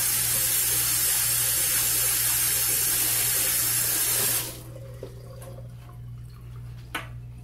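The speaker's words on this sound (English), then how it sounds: "put my silver under the hot water, and I put a little soap in a very soft sponge, and I wash it" Hot water runs steadily from a tap over silverware being washed with soap and a soft sponge, a loud close rushing that stops abruptly, leaving faint drips and small clinks.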